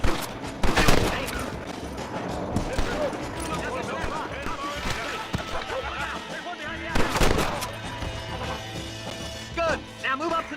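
Gunfire in Red Dead Redemption: a western shootout with scattered sharp rifle and pistol shots and two loud volleys, mixed with game voices shouting nearby and someone talking over the action.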